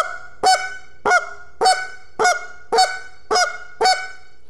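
A goose flute call blown as seven evenly spaced, sharp honks, each clipped short with a slight cluck at its onset, loud and close with no voices.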